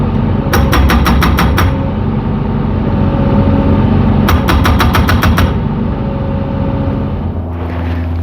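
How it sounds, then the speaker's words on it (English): Two bursts of rapid, rhythmic metallic pounding over a steady loud engine drone, each lasting about a second, separated by a stretch of running machinery: a post pounder attachment on a breaker hammer of a JoyT5 JT5350 3.5-ton excavator driving a post. "Now you saw how to use the post pounder attachment for the braking hammer"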